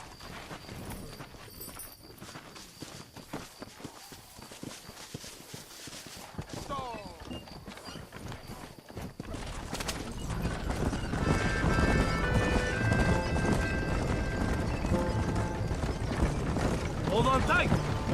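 Horse hooves gallop in Red Dead Redemption as riders and a wagon set off, rhythmic clip-clop rising louder in the second half, with a whinny and game voices talking over it.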